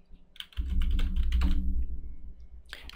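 Keys on a computer keyboard are tapped in a quick, close burst of clicks, pausing and then resuming with a few more taps at the end.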